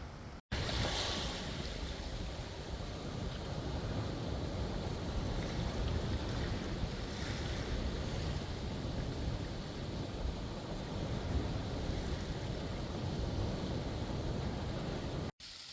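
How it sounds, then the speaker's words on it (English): Pacific Ocean surf on the North Coast near Fort Bragg, Mendocino, a continuous wash of breaking waves mixed with wind noise and no talking, steady from start to finish. "this view, the ocean, the Pacific Ocean, North Coast, this is what is amazing here"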